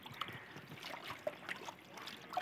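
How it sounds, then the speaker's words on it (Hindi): Water trickles and drips from washed mixed greens (spinach, bathua, fenugreek) draining through a mesh basket, a soft, close, continuous dribble with small irregular splashes. "एक्स्ट्रा पानी जो है वो देखिए खुद ही नीचे से निकल जाता है"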